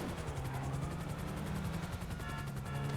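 A helicopter in a video game whirs steadily with fast rhythmic rotor chopping over a low engine drone, sustained and fairly faint throughout.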